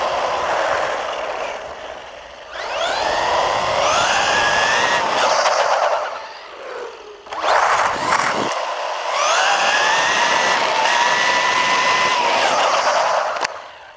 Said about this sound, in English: the biggest one being the brushless motor and the much faster speed.